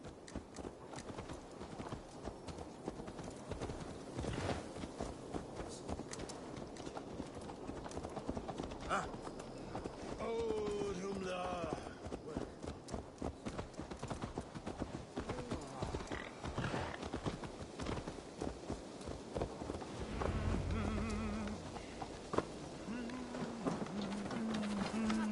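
A horse clip-clops in Assassin's Creed Valhalla, hooves thudding steadily at a walk beneath game music and ambience while voices converse throughout.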